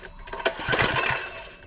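A single quick pull on the recoil starter of a Husqvarna PW3200 pressure washer with a seized motor and the spark plug removed: a short rasping, whirring rattle of the cord and engine, close by, without the engine catching.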